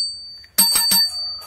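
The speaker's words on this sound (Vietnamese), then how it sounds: "Đây, mọi người nghe tiếng chuông ạ" A stainless steel bell on a Japanese-market Bridgestone bicycle with an 8-speed internal hub rings sharply three times in quick succession, loud and close, then a bright ringing tail fades.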